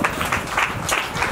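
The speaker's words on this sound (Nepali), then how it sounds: "ताली बजाउनुस् अब दुलहिनले दुलालाई लगाइदिनुहुन्छ" Clapping from a wedding ceremony audience, a short burst of dense, even applause heard from within the crowd, fairly loud throughout.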